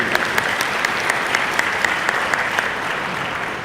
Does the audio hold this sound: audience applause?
yes